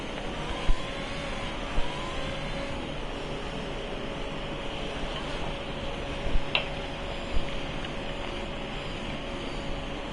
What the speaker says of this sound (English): Pacheco makes extra sure that his engine is warmed up for this restart. Rev it like it's a Honda engine